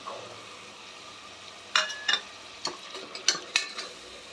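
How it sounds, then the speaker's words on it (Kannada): Field beans (avarekalu) fry in oil with masala in a pan, giving a low hiss broken by several sharp scraping stir strokes in the second half, fairly close. "ಅವರೆಕಾಳನ್ನು ಒಂದು ನಿಮಿಷ ಹುರ್ಕೊಳ್ಳೋಣ"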